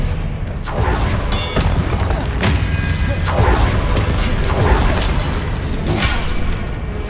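Rapid spell blasts in Hogwarts Legacy: Depulso, Confringo and Expelliarmus firing in a dense string of loud booms, crashes and thuds with sharp cracks, continuous battle noise throughout.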